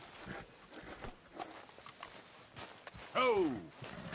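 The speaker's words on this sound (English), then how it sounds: "Hey, get that horse out of here." Horse hooves clopping in Red Dead Redemption: soft, fairly distant hoof steps under ambient noise and talk, followed by a louder, rising horse call near the end.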